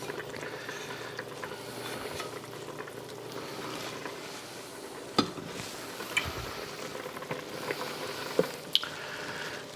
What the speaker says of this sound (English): we will put this into our simmering pot to thicken the stock that's remaining